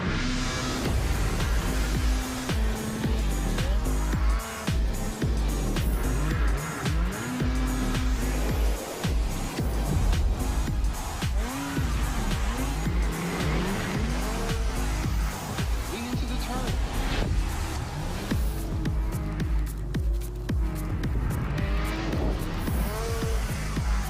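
Rotax kart engines fire up and race at the Rotax MAX Challenge Grand Finals 2022, with continuous high-revving two-stroke buzz that rises and falls through rapid gear-like pitch sweeps, loud and close throughout.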